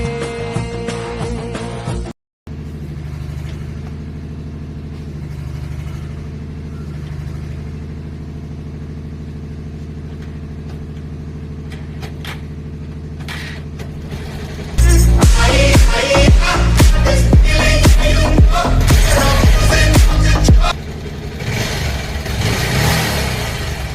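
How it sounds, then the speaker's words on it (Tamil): A motorcycle on its centre stand is started in third gear, giving a low steady idle, then a loud revving burst for several seconds before it settles back to idling, no talking. "வண்டி இப்படி சென்டர் ஸ்டாண்ட் போட்டு நிறுத்திட்டு தேர்ட் கியர் போட்டுட்டு ஸ்டார்ட் பண்ணுறேன்"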